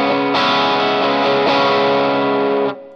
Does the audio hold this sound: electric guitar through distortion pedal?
yes